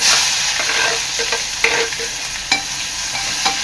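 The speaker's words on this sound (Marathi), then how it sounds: "कांदा चांगला लाल होईपर्यंत शिजून घ्यायचा आहे" Chopped onion sizzling in hot oil in a pan with mustard seeds, a steady loud frying hiss with occasional stirring scrapes and small pops throughout, no voices.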